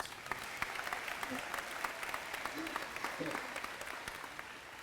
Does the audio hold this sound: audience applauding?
yes